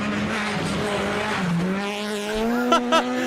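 A black Peugeot front-wheel-drive rally car drifts past on a European rally stage, its engine loud and rising in pitch as the tires squeal and skid, then a couple of sharp pops near the end.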